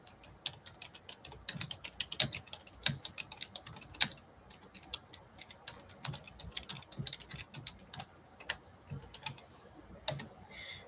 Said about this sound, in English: I'll type that in here too.